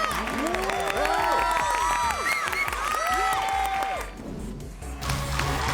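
Crowd cheering and clapping generated by a fan app plays with loud overlapping shouts, whoops and chants; the roar dips briefly near the end, then resumes.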